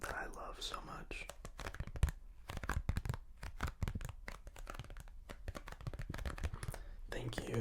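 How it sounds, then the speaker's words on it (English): Crinkly handling and cutting of a plastic sheet in a close, quiet setting, with dense irregular crackles, snips and rustles throughout, under soft whispered talk. "So the first thing that I have here is this plastic sheet that I love so much."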